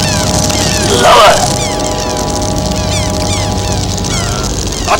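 A bird calls out at night, a brief honking, goose-like cry rising over a steady background of low hum and faint chirping.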